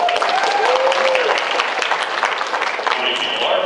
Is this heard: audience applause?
yes